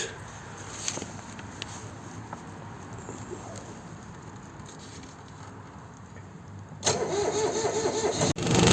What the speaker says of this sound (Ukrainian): Чітко завівся, навіть без свічки розжарювання.